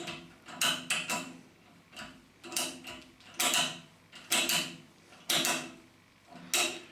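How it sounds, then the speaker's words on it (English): Chicago Brand open-ended ratchet spanner clicking as its pivoting jaw slips around a nut, in about nine short, close bursts of ratcheting clicks spread evenly over several seconds, with no talk. "It has got a pivoting mechanism that slips around the nut when you are tightening it or undoing it"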